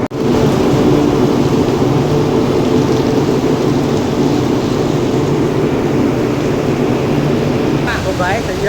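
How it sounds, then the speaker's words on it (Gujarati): Heavy, unbroken morning downpour in Padra with water pooling everywhere, a loud dense roar of rain close by, low thunder rumbling underneath throughout. "હજુ પણ ચાલુ જ છે, એક ધાર્યો વરસાદ"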